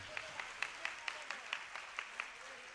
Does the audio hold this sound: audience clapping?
yes